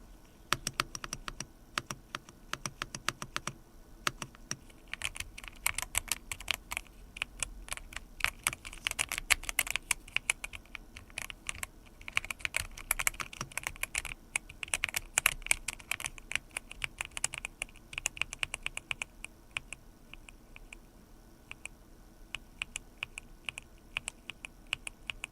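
An Unzii mechanical keyboard typed on continuously, with quick, close, clicky keystrokes in bursts and no voices, tapering off toward the end.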